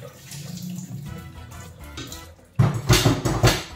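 Cold water is poured over a dish while cooking spaghetti bolognese. A soft trickle at first gives way to a louder, splashing pour near the end.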